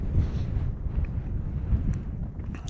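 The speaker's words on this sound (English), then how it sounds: "It is windy up here, I'm telling you guys." Wind gusting steadily across an exposed high spot in Death Valley, a constant low rumbling buffet against the microphone with no pauses, no voices heard.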